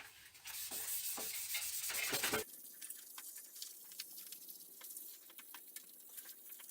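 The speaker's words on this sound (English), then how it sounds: "I'm just going to do one more run over with the 1000 grit and see if I can pick up any of these last imperfections" A steel sword blade is rubbed with a 1000 grit sanding block: close, loud, steady rasping strokes for about two seconds, then lighter, quieter scratchy passes with small irregular ticks.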